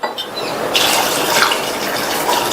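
Water pours steadily into a pressure cooker holding butter beans and salt, a continuous close splashing fill that grows fuller partway through.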